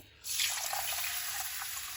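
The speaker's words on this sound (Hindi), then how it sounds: "इसको 2-3 पानी से धो लेंगे।" Tap water runs steadily as basmati rice is rinsed in a sink or bowl, a continuous near splashing hiss that begins abruptly and carries on alone with no talk.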